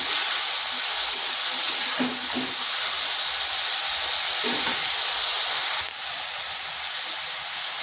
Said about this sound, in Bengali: প্রথমে হাই আঁচে ছাতুগুলোকে ভেজে নেব